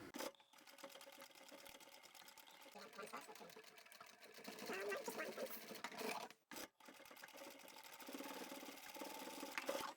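A sewing machine triple stitches over bulky pouch layers, its faint, steady whirring running almost continuously with one short pause, under quiet talk.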